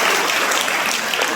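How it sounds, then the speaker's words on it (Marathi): Audience applause at a Marathi Shri Ram Katha religious discourse, a dense steady wash of clapping from a crowd, loud and continuous throughout. "टाळ्या वाजवा."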